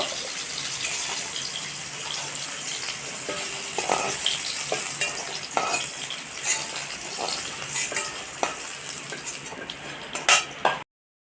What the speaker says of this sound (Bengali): ফুলকপিগুলো এইরকম ভেজে নিয়েছি তো তুলে নেব